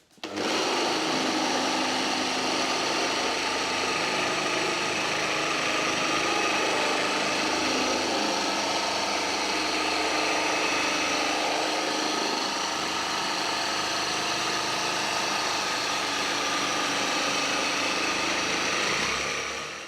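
A machine polisher with a Hexlogic pad works medium cut polish into a car's paint inside a living room, a continuous steady motor whine holding close and loud throughout without pause or speech.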